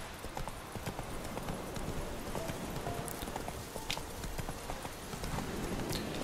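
Horse hooves clip-clop steadily as Geralt rides through Novigrad in The Witcher 3, a continuous trotting rhythm over busy ambient game noise with occasional faint background sounds.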